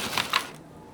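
Paper peels away from a chocolate cake in one short, close crinkling tear with two brighter crackles, then the sound fades into quiet.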